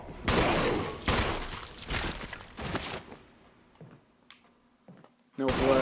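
Gunfire in the Resident Evil Remastered video game, several heavy shots in quick succession early on with booming tails, then quieter mechanical clicks and a final loud burst, with a voice talking over parts.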